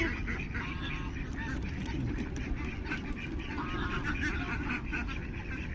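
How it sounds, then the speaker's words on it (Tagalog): A crowd of ducks quacks on an early morning walk, a dense, continuous chatter of overlapping calls close by. People talk over it now and then. "Ang daming itik."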